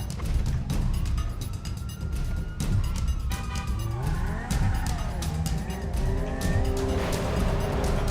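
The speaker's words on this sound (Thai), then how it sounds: "อ้าวขับแซงผมเฉยเลยอ่ะ" In GTA V, a car overtakes with roaring engine and squealing tires, loud revving and pitch sweeps as vehicles pass close by, sustained throughout with a low hum underneath.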